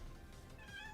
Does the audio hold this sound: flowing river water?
no